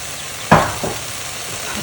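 Onions meet hot oil in a pan, giving a sudden close burst of sizzling that spikes sharply and then fades into a softer steady crackle.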